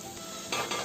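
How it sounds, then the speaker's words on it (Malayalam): Chopped capsicum being sautéed in a pan, a soft continuous sizzle with a couple of brief stirring scrapes near the end, close and fairly quiet. "എന്നിട്ടൊന്ന് നന്നായിട്ടൊന്ന് വഴറ്റി കൊടുക്കുക"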